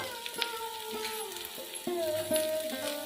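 Potato, ridge gourd and pointed gourd frying together in a pan for a jackfruit-seed vegetable chorchori, giving a steady sizzle with scraping stir strokes and a few clinks, with no talk.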